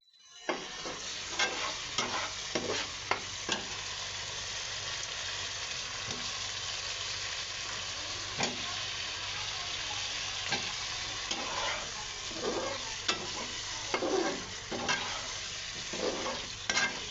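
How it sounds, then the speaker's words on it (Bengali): Spices with turmeric and coriander powder sautéing in a pan, a continuous close sizzle broken by repeated sharp scrapes and knocks of stirring, with no voices. "মশলাটা কষানো হোক।"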